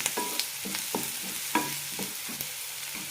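Sliced onions fry in a pan for egg kurma, a soft steady sizzle broken by repeated scraping strokes of a spoon stirring them, close and fairly quiet.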